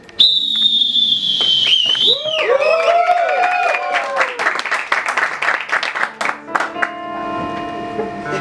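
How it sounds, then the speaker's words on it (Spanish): A sharp, high whistle is blown once to open an improv theatre scene at a live show, followed by bursts of applause and whistling from the crowd that fade into a busy, clattering mix of effects noises. "Cuando toque el silbato, esto comienza."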